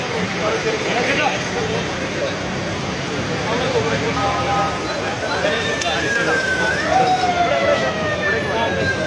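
An ambulance siren sounds amid a noisy crowd of talking people, its wailing tones sweeping up and down more clearly in the second half.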